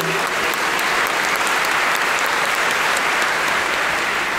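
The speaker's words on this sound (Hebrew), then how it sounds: "שבשלב הזה של הסיפור יש כפיים" Sustained applause from a stand-up comedy audience, dense even clapping filling the room at steady loudness for several seconds without a break.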